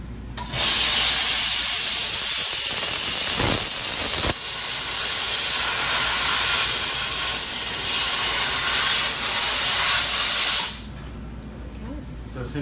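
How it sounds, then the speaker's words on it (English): A jewelry steamer hose blasts hot steam onto a ring, a loud continuous hiss running for about ten seconds with a brief dip partway through, then cutting off abruptly. "This hose shoots out a very powerful shot of hot steam"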